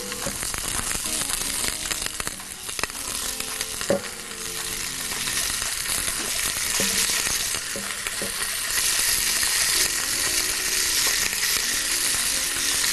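Pieces of beef fry in ghee in a pot, giving a continuous loud sizzle and crackle, with scattered clinks and scrapes as pieces are set in one by one.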